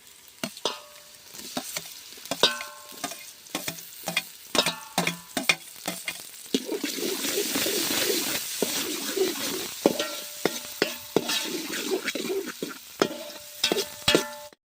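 Browned onions and added tomatoes fry in a pan, a close sizzle swelling in the middle while a spatula scrapes and knocks against the pan in quick repeated strokes, with no talking.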